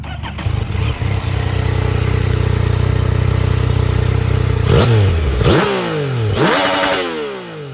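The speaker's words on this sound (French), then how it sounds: "je trouve que ça chante quand même plutôt pas mal pour un échappement d'origine" A Yamaha MT motorcycle with its stock exhaust idles loudly and steadily up close, then gets three sharp throttle blips near the end, each revving up and falling back to idle.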